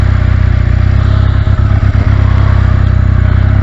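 Motorcycle engine catching during a roll start, a steady loud rumble with a brief burst of rapid firing pulses midway, close and continuous without talk.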